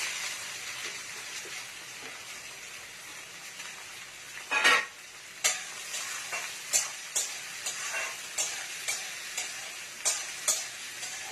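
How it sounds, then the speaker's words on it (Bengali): Onions dropped into hot oil with cardamom, cloves, peppercorns and a cinnamon stick, giving a steady close sizzle, one loud splash-like burst, then regular stirring scrapes at a brisk rhythm. "তেলের মধ্যে একটুখানি নেড়ে নিয়ে আমি পেঁয়াজগুলো ছেড়ে দেবো।"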